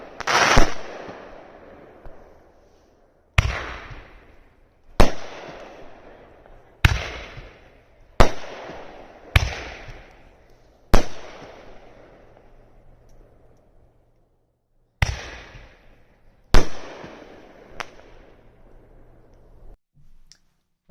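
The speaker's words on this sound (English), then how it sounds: "Let's take the Absolute Power shells out in the field, light the fuse, and see how they go." Absolute Power aerial ball shells bursting in an open field, about ten loud, sharp booms spaced a couple of seconds apart, each trailing off in a crackling, rumbling decay.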